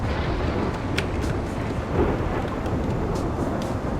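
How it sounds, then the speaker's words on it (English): A lightning storm rages in the RimWorld video game: heavy rolling thunder and rain form a dense, constant low rumble with scattered sharper cracks. No one speaks. "these lightning storms are pretty bad"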